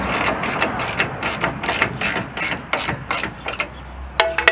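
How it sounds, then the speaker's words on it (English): A ratchet socket wrench turning an 11 millimeter nut on a Jeep Wrangler fender liner, rapid close clicking strokes in a steady rhythm ending with a few metallic taps. "Let me get my little wrench. My little socket."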